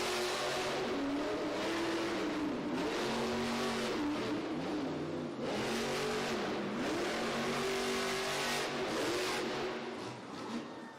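The Zombie monster truck's engine roars and revs continuously through a timed racing run in an indoor arena, loud and close with repeated throttle swells and pitch sweeps, an arena crowd and announcer noise blended underneath.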